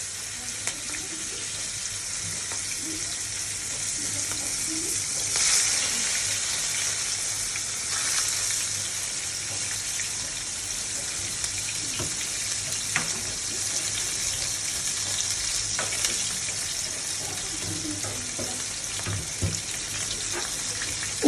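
Onions frying in a pan for a winter vegetable curry with a small hilsa fish, a steady broadband sizzle running continuously throughout with occasional soft stirring clicks and a faint low hum.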